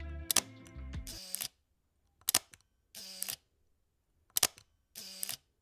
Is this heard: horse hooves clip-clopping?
no